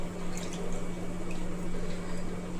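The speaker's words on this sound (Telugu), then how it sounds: "సో మనం ఇలా నీళ్ళలో కడిగేసుకుంటే ఇసుక అంతా పోతుంది" Water splashes and drips as a sea fish is washed to rinse off sand, soft irregular liquid sloshing close by over a steady low electrical hum.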